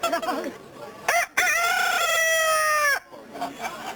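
A rooster crows at a busy agricultural county poultry show, a single long, loud cock-a-doodle-doo close by, preceded and followed by brief clucking and crowd murmur.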